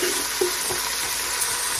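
Flour is stirred into sizzling beef short rib drippings in a pan, a steady close frying hiss with soft scraping stirs and no talking.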